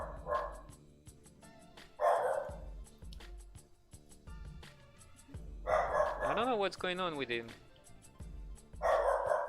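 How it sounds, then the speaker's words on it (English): A dog barks toward a closed-shade window indoors, several loud bursts spaced a few seconds apart over steady background music, with someone talking in between. "He's barking to the window, but the shades are closed, so I don't even know what he's barking to."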